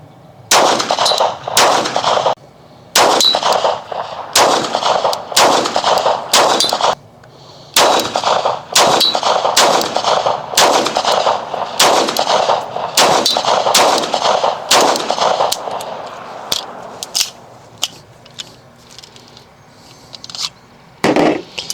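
Pistol gunshots at an outdoor shooting range, a long run of loud sharp cracks fired one after another at a steady pace, with brief pauses between strings and a final few spaced shots.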